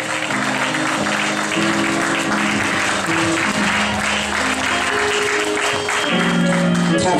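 A church congregation claps at a revival service to welcome a prophetess, loud continuous clapping mixed with sustained organ or keyboard chords and some voices underneath.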